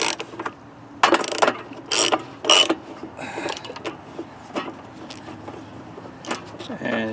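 A ratchet wrench loosens half-inch nuts holding the cover on a Troy-Bilt Storm 10030 snow blower with a 10HP Tecumseh engine, rapid close clicking bursts in short spurts separated by pauses.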